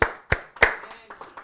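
A few claps ring out in a church congregation, several sharp hand claps spaced unevenly over a second and a half, close and distinct rather than a full crowd applause.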